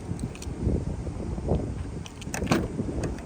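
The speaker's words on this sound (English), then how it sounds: "Let me open the car for you boys" A Nissan 350z car door is opened: a handle click and latch knocks near the end, over a steady rumble of outdoor noise and wind.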